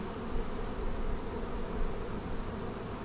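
Honey bees hum in a dense, steady drone at a Flow Hive apiary during honey extraction, many insects buzzing close together without pause.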